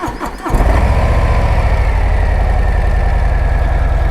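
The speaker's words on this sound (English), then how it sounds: "The first startup on FXTLS Brooklyn's Lowrider ST." A Harley-Davidson FXLRST Low Rider ST motorcycle engine fires up for the first time after a short crank, then settles into a loud, close, deep, pulsing idle that runs steadily on its own.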